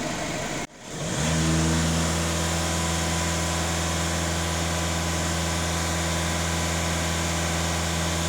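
A Skoda Octavia A7 engine catches and then runs at steady raised revs around 2,500 rpm, a constant droning hum close by with no talking.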